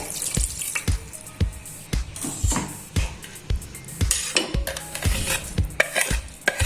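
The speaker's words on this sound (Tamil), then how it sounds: "நல்லா கிளறி விட்டுட்டு" A utensil scrapes and stirs through mutton in a pan, with repeated clanking strokes in an uneven rhythm and a soft background sizzle.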